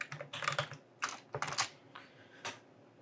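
Keys clatter on a computer keyboard while a file name and date are typed into a save dialog, in a few quick close bursts separated by short pauses, with no talking.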